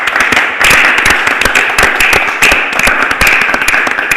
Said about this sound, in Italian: È riuscita a prendere l'applauso senza fare... spontaneo